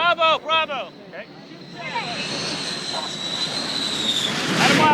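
An F-14 Tomcat jet's engine whine rises as it approaches an aircraft carrier deck, growing louder toward the end, after brief shouted talk at the start.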